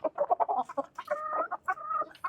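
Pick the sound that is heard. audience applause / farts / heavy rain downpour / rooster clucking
rooster clucking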